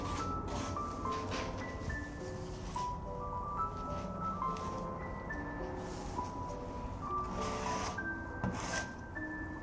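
Tube-type elastic putty being scraped smooth with a tool, a steady rubbing, rasping scrape that continues throughout, with background tones and no talking.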